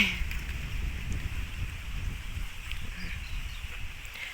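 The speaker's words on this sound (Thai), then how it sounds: "ลมแรงมากเลย จะ จะได้ยินแต่เสียงลมหรือเปล่า" Strong outdoor wind buffeting the microphone in a steady low roar with faint rustling, moderately loud throughout and no clear speech.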